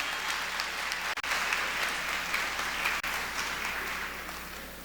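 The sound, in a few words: applause for the gospel choir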